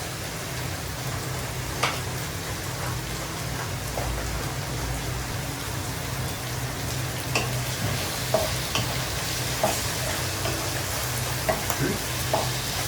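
Steady sizzling of prawns sautéing in a pan, with occasional soft clinks and scrapes of stirring throughout.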